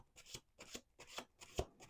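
A deck of cards is shuffled by hand in a quiet room, about five evenly spaced riffling bursts, close and crisp, each a short rasping flutter.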